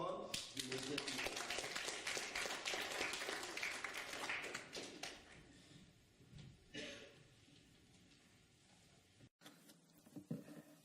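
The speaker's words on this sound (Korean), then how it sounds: "우리 박수로 한번 인도하시겠습니다" A congregation applauds at an Easter Sunday church service, a dense, loud wash of clapping that gradually tapers off over several seconds, followed by a brief gap and then room noise.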